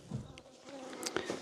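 Bees buzz faintly around an opened Kenyan beehive, a quiet drone with a few brief louder passes of individual insects close by, heard outdoors with no talk.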